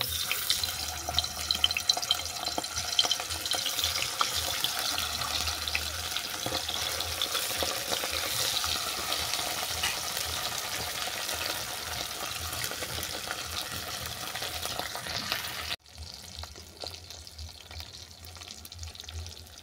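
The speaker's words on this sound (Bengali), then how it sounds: "তেল গরম হয়ে গেছে, এতে বাটা মাছগুলো ভেজে নেব।" Bata fish frying in hot oil, a dense, steady crackling sizzle that runs loud and close for most of the stretch, then drops abruptly to a quieter hiss near the end, with no voices.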